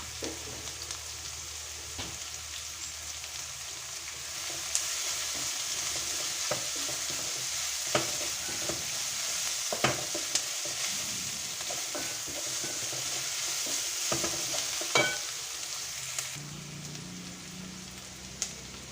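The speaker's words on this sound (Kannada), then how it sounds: "ಕರಿಬೇವು ಹಾಕಿ ಒಂದು ಸಲ ಮಿಕ್ಸ್ ಮಾಡಿಕೊಂಡು" Curry leaves fry in hot oil in a pan for a drumstick-leaf bassaru, with a steady close sizzle and spatula scrapes and taps on the pan throughout.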